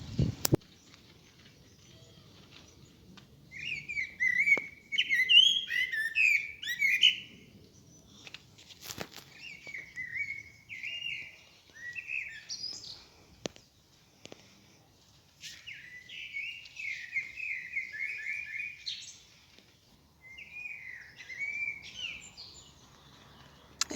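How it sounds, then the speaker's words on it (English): A blackbird sings in spring, giving fluting, warbling phrases in separate bursts with short pauses between them, fairly close and clear over a quiet outdoor background with occasional faint rustles and clicks. "It's very definitely a blackbird making that beautiful sound."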